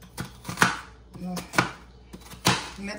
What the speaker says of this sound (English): I'm just slicing them and put them in here.